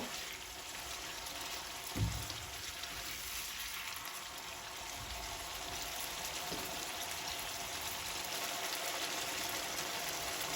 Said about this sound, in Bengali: টক দই দিয়ে মশলার সাথে আরও এক দুই মিনিট খুব ভালো করে টক দইটাকে কষায় নিব